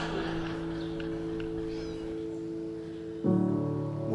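A cat meows from a video being played, a steady tonal cry that shifts pitch near the end, heard faintly over a roomy background hum.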